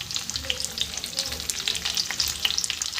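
Chopped onions dropped into a pan of lightly fried garlic sizzle steadily and loudly, with crackling pops and bright spitting hiss throughout, no voices.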